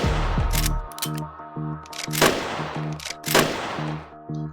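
A lever-action rifle fires in the VR shooting game Gun Club VR, with two sharp, loud reports and a few lighter mechanical clicks over steady background music.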